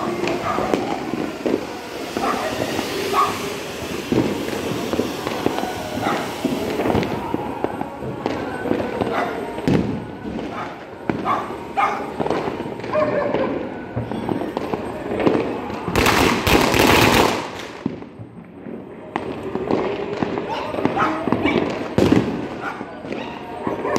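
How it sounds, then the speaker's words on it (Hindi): Diwali firecrackers and fireworks burst in the sky over a home terrace, a steady rapid crackle of pops and bangs at middle distance, with someone talking now and then over the noise. "और ऊपर पटाखे फूट रहे हैं गाइस आसमान में।"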